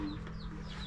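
A hen clucks near a boat-building site in the Philippines, several short clucks and squawky chirps close by over a steady low background hum, without any talk.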